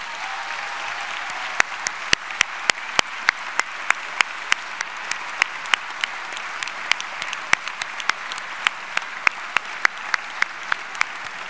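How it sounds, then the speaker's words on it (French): An audience at a law master's graduation ceremony applauds a prize winner, with a steady wash of clapping and sharp individual claps standing out throughout. "Je vous invite à présent à me rejoindre sur scène, sous un tonnerre d'applaudissements."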